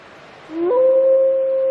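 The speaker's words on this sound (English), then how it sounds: "Her howls identify her as an available female." A female black wolf gives a single close howl that rises quickly and then holds a steady, clear, sustained tone, heard alone without other sounds.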